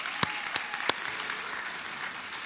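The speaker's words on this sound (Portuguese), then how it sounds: "Salva de palmas também para o Brunão, gente." A few loud, distinct claps at the start give way to thin, scattered applause from a church congregation, brief and fading quickly into a quiet room.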